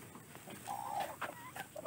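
Several brooding hens sitting on eggs cluck softly and irregularly, a few close, low, throaty clucks and murmurs scattered over a quiet barnyard background.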